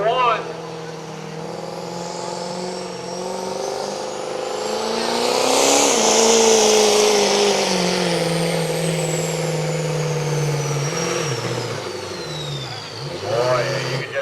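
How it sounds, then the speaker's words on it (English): Diesel truck at a drag race in a diesel powerfest shootout, its engine and turbo spooling up in a long rising roar with a high whistle riding above it, then falling off, while an announcer talks over it. "Boy, you can just hear that turbo."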